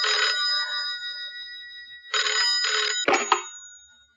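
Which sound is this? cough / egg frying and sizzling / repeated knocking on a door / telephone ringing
telephone ringing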